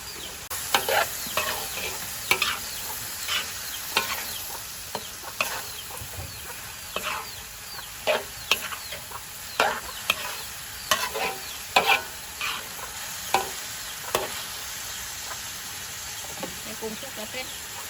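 Stink beans stir-fried with shrimp and minced pork in a hot pan, spatula scrapes and clanks in an irregular rhythm over continuous sizzling, with some background voice.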